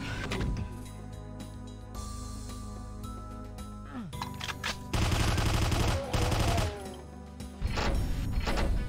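Machine-gun fire in Doom II comes in several loud bursts of rapid mechanical shots in the second half, over a droning game soundtrack with no talk.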